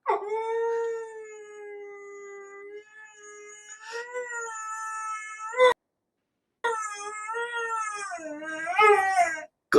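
A pet dog howls in long, drawn-out wavering tones, rising and falling close by, with a brief silent break midway before the howling resumes, no talk over it.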